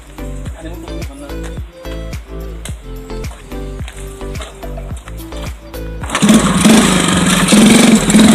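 A motorcycle, described by its owner as hard to pull, cranks with a repeated rhythmic chugging of start attempts, then catches and settles into a loud, steady running roar for the last couple of seconds.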